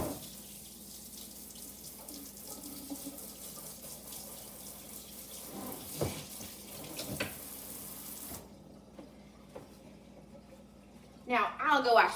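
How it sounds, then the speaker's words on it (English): A kitchen tap runs steadily while goopy cookie-dough hands are rinsed beneath it, a constant close rush of water that cuts off near the end, followed by a few brief clattering knocks. "I'm gonna rinse my hands off because they're all goopy."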